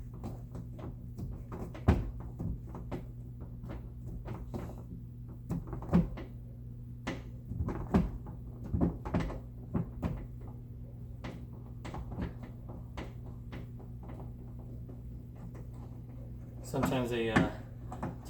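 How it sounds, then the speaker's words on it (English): Plastic clips pop loose as a door panel is pried off a Toyota Tacoma, a series of sharp snaps and knocks spread over the stretch, with a faint steady hum underneath and a rattling pull near the end. "When I pull the door panel off,"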